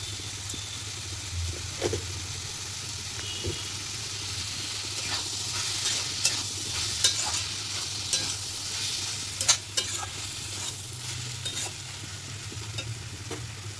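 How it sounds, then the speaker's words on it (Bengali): Bottle gourd and chickpeas fry in a pan for a Bengali vegetarian curry, with a continuous moderate sizzle and irregular spatula scrapes and taps running throughout, close and steady. "একটু নেড়ে চেড়ে নিচ্ছি।"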